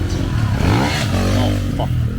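A KTM 450 EXC dirt bike approaches fast, its engine roaring loud and steady with a rising, revving growl that stays close and continuous throughout.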